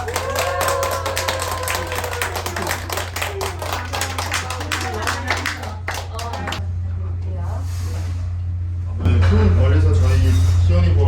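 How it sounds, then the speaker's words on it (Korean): Family members clap together at a small first-birthday party in a Yangju garden venue, with a lively burst of close, busy clapping under cheerful talk for about six seconds before it fades into a steady hum. "시원이 자 박수 준비하시고"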